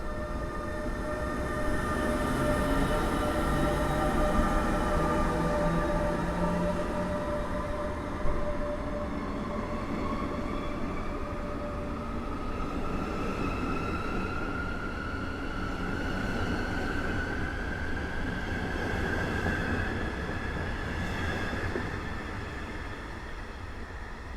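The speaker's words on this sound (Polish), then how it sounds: "Rusza, złożył się pantograf przedni." An accelerated passenger train pulls out of Warszawa Główna station with its front pantograph lowered, motors whining upward in pitch as it gathers speed, a steady rumble of wheels and carriages at moderate distance.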